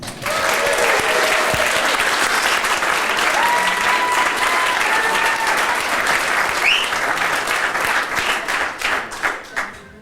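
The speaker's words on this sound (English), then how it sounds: "Please put your hands together for Joe." A wedding reception audience applauds the father of the bride in a loud, sustained burst of clapping that thins out into scattered individual claps near the end.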